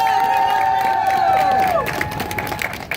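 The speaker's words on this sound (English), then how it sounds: "I want you to give each and every one of them a round of applause once again." A crowd at a march for Black women claps and cheers loudly, with a high sustained whistle-like tone over the noise that fades after the first couple of seconds.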